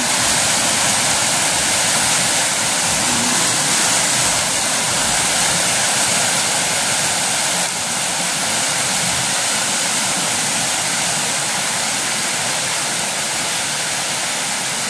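A flooded river rushes past in a steady, loud, broadband roar that holds constant throughout, with no talking over it.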